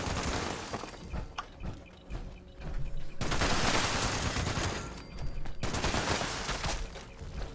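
Sustained automatic gunfire in Fallout 76, dense loud volleys of rapid shots that rattle on for several seconds with brief gaps, mixed with impact and clatter noises.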